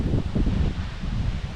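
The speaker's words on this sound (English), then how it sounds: "the wind's come up too" Wind blowing outdoors, a steady low rumbling buffet against the microphone with faint rustling, no voices.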